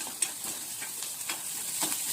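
Turmeric and salt stirred into hot oil tempering sizzle softly, with a faint continuous fry and a few light scraping stirs at irregular intervals.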